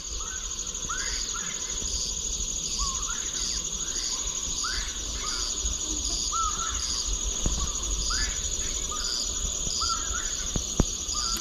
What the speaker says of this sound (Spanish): No sé si logran escuchar como canta ese pájaro.